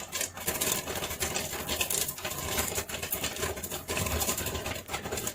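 Dense, continuous crackling and rapid pattering of popcorn popping steadily in a covered pan, with no talking.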